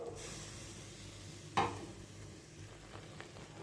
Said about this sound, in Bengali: একটু নাড়িয়ে নিয়ে